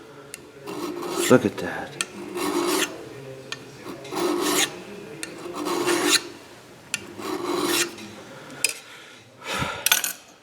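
Hand file rasping on a metal part of an Emmert pattern maker's vise, rhythmic back-and-forth strokes in repeated bursts, close and clear, with a brief spoken remark.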